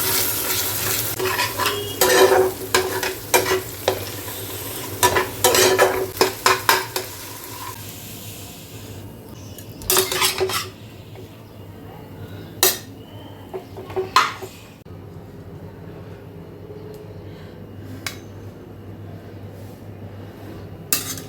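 A wok of chow mein noodles is stirred with a metal utensil, giving clattering scrapes and clinks in bursts over a steady low sizzle, close up, with no talk.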